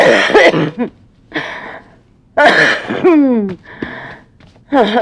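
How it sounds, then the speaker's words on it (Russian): Several harsh coughs and throat clearings come in bursts separated by short gaps, close and loud, with a person's vocal sounds mixed in. "А, опять кашель, опять кашель."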